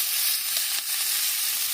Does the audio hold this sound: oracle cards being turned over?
no